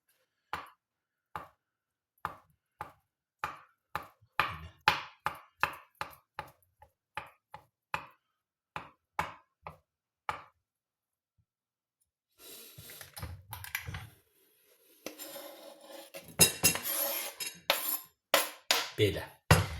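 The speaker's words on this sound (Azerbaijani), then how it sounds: "Və yenə də yumurtamızı bir neçə hissəyə bölürük." A knife cuts a boiled egg into pieces on a board for a beetroot salad, giving a steady run of sharp, close taps at an even pace, then a stretch of louder clatter and scraping.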